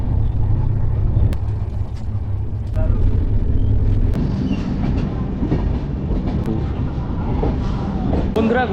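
A train pulls into a platform at Kharagpur railway station, a loud low rumble with rattling wheels and clanks close by, and scattered voices around.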